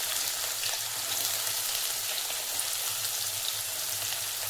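Crushed garlic and finely chopped onion frying in a pan for a capsicum gravy, giving a steady, even sizzle that continues throughout.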